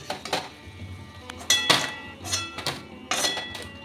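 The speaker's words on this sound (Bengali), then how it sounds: "বড়াগুলো ভাজা হয়ে গেছে, এবার আমি তুলে নেব" Fried mango fritters lifted from a pan of oil, giving several sharp metallic clinks and scrapes of a utensil against the pan at irregular intervals, close and moderately loud, with a soft sizzle underneath and no talking.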